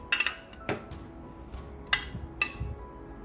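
A spoon stirs chopped jelly pieces in a bowl for a semiya fruit pudding. Light clinks and taps of metal on the dish come in a loose, uneven rhythm, close up and fairly quiet.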